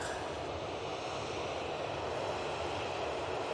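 A Jet2 Boeing 737 lined up on the runway at Manchester Airport sends a steady, distant engine roar and hiss, even and unbroken throughout, with no voices.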